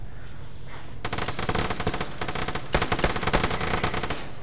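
Pistol gunfire in the PS4 shooter Vigor during an elimination match: a quick, loud rapid-fire string of sharp cracks starting after a quiet second, continuing almost without pause.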